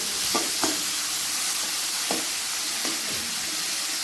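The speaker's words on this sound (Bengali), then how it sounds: "এই দুটোকে ভালো করে একটু ভেজে দিয়ে তারপরে ক্যাপসিকামটা দিয়ে দেবো" Beans and vegetables for fried rice sizzle in hot oil in a pan, a constant bright hiss broken by several sharp spatula scrapes and stirs at uneven intervals.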